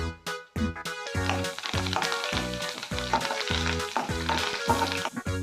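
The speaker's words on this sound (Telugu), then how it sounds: "దంచిన ఎల్లుల్లి మూడు రెబ్బలు వేసుకుంటున్నాను" Crushed garlic cloves and curry leaves sizzling in hot oil for a peanut chutney tempering, a close, steady frying crackle with some clinks, though a repeating musical pattern runs loudly beneath it.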